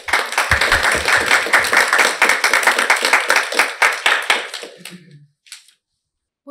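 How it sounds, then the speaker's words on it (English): An audience applauds guests at the close of an evening voting discussion event. The clapping is dense and steady for about five seconds and then stops abruptly into silence. "Another big round of applause for our guests"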